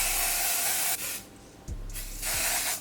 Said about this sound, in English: shake it up, and I spray it onto my cap